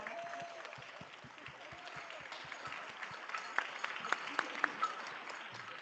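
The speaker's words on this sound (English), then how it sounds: "Can we give him another round of applause?" An audience applauds after drumming and dancing at a Potawatomi and Irish language and culture exchange. The clapping is steady and moderate, with a few sharper claps standing out near the end, and people speak faintly beneath it.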